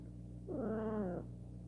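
An indoor house cat gives a single drawn-out, whiny meow of about a second, moderately close against a faint steady background hum.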